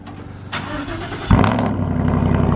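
A Ford F-150 truck engine cold-starting after sitting for 18 days: a brief cranking whir, then a loud catch about a second in that settles into a close, rumbling idle.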